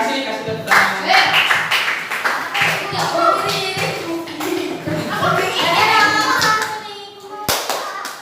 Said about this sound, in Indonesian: Terima kasih, kasih tepuk tangan.